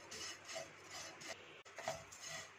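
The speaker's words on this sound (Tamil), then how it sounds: "கடாய் சூடான பிறகு அவல் சேர்த்துக்கோங்க. இந்த மாதிரி கெட்டி அவல் எடுத்துக்கோங்க. 3 to 4 minutes வரைக்கும் ட்ரை ரோஸ்ட் பண்ணிக்கோங்க." Thick flattened rice (poha) is dry roasted in a hot kadai, giving soft, rhythmic scraping and rustling stir strokes that repeat quietly and closely.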